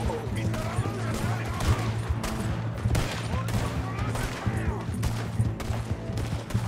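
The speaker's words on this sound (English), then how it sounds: "Ne ampuu meitä." Gunfire in Red Dead Redemption 2 during an escape from the law, with repeated shots crackling in bursts over a steady low game score, while people talk now and then.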